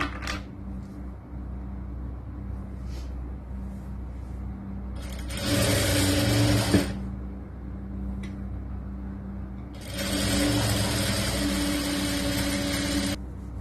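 A sewing machine stitches churidar top lining in two sustained bursts of steady mechanical whirring over a low background hum, with quiet pauses between them.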